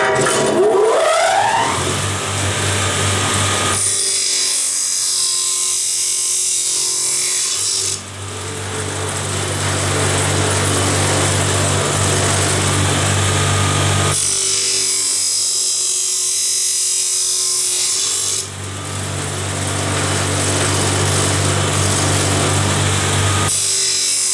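A power miter saw fitted with an abrasive cutting disc grinds through material in a disc test, giving a loud sustained whine that runs in several long passes, each separated by brief pauses and dips in pitch.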